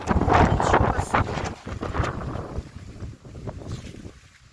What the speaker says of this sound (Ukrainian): Ужас, подивіться, який ураган. Буря настояща.